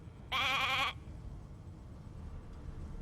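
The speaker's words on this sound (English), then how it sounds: "Hey, a sheep!" A single sheep bleat in the video game Divinity: Original Sin II, one loud, wavering, nasal call lasting about half a second, followed by quiet background ambience.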